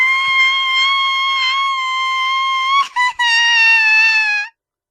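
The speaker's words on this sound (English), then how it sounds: "She screamed." A woman lets out a long, loud, sustained scream during a dark fantasy story reading. The piercing tone holds steady, breaks off briefly near the end, then resumes and cuts off sharply.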